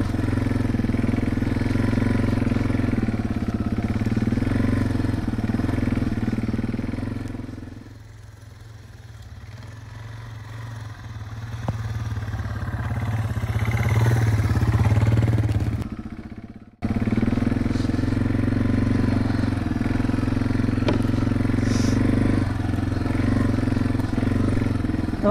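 A Yamaha TW200 motorcycle runs through about ten inches of packed snow on a backyard trail, a steady low engine drone that eases off mid-clip, cuts out briefly, then returns close and loud.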